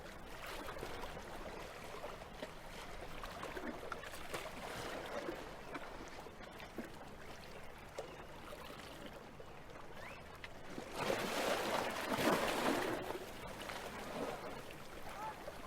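Steady ambient water out at sea, a continuous wash of small waves lapping against a boat, with a louder surge of splashing swell rising briefly toward the end before settling back to the soft background.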